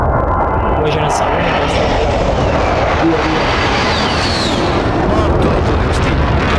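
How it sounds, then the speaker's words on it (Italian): A Call of Duty: Warzone air strike pounds a target with dense, continuous explosive rumble and roaring aircraft noise, loud and sustained throughout, with voices talking under the barrage. "Questo è il bersaglio per l'attacco aereo designato. Qui Striker 3, ricevuto. Attacco in corso."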